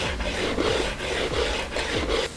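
Rhythmic rasping of sandpaper rubbed back and forth along the edges of wooden blocks held in a clamping jig, close up, with repeated strokes about twice a second.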